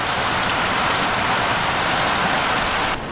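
Steady morning rain falling over a village, a dense continuous hiss of drops on surfaces that stays even and loud throughout with no voices.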